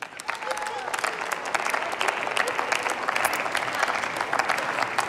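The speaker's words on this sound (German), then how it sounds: "Applaus" Sustained applause from the floor of the German Bundestag after a speech by Heinz Riesenhuber, dense steady clapping across the whole span with no pause.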